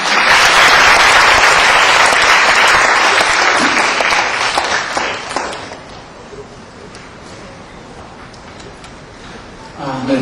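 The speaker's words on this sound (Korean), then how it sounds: "뜨거운 박수로 맞이하시겠습니다" Loud audience applause at a university debate competition final, dense clapping filling the first half and then fading into a quieter room with light shuffling.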